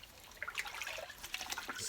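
A human hair wig is swished around in water, giving faint, soft sloshing and trickling with small splashes, close and quiet.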